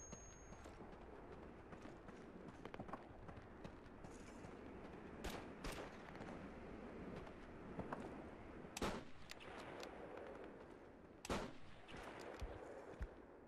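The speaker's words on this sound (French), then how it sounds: "ils utilisent notre artillerie contre nous" Artillery and gunfire thump and crack at intervals over a rumbling battlefield background in the World War II shooter Call of Duty 2: Big Red One, fairly faint, with several sharp blasts spaced seconds apart.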